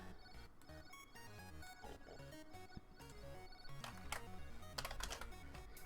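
Fingers typing on a computer keyboard at a desk, a run of quick, uneven clicks close to the mic that come in bursts and grow busier toward the end, with no voices.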